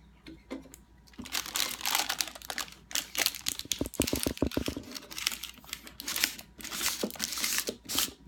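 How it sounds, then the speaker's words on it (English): Sheet of parchment paper crinkling and crackling up close as it is pressed over the mouth of a jar of herbal spring tonic vinegar, in a run of crisp, irregular rustles lasting several seconds. "I'm going to take my parchment paper and cover it."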